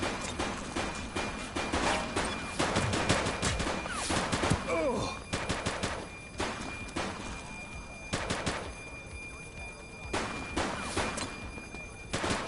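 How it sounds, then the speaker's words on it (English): Repeated bursts of gunfire from the police game The Precinct, volleys of rapid shots and single cracks scattered across the stretch with brief lulls between, loud and close. "Shots fired!"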